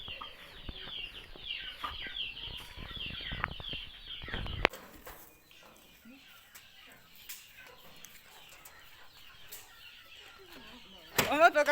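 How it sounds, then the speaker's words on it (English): Chickens in a village chicken coop cluck and squawk amid rustling and flapping, busy and fairly close for the first few seconds, then quieter background with a sharp burst near the end. "This is the chicken coop. Our chicken stays in here."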